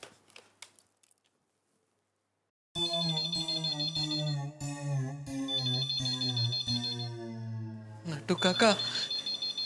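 An intercom ringing in a home, after a short spoken phrase and a moment of silence: a loud, steady electronic tone with repeated melodic beeps, ending in a burst of busier chirping tones.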